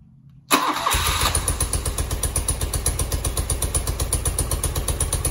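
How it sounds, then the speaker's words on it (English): A cold BMW R80/7 motorcycle engine cranks briefly and catches, then settles into a steady, loud, even idle with a regular pulsing beat close by. "Ignition on. Again, bike is dead cold. And let's see how well it starts."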